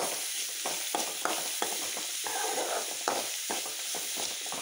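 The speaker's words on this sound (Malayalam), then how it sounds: "വറ്റൽമുളക് പച്ചമുളക് കറിവേപ്പില ഉള്ളി എന്നിവ ഇട്ട് നന്നായിട്ട് മുരിച്ചെടുക്കാം നന്നായിട്ട് ഇളക്കി ബ്രൗൺ നിറമാകുന്നത് വരെ നന്നായിട്ട് മുരിച്ചെടുക്കാം" Dried red chillies, green chillies, curry leaves and small onions fry in a pan with a quiet continuous sizzle. A spoon stirs them in repeated soft scraping strokes, close by, with no voices.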